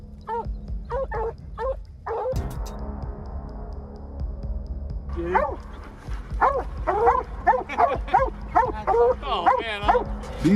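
Hunting hounds, blue-tick coonhounds and plott hounds used to track mountain lions, bark and yip in quick repeated bursts, some near and some farther off, over a steady low hum.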